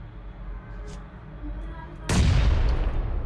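A grenade explodes in a first-person shooter match, a single loud broadband blast that erupts suddenly partway through and rumbles on to the end over quieter game ambience.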